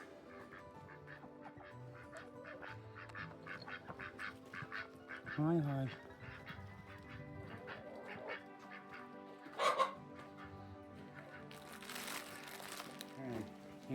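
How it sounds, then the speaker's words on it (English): Backyard ducks kept with chickens quack in short nasal bursts at middle distance, set against steady bird chatter, while a person briefly speaks a greeting. "Here are our chickens and ducks."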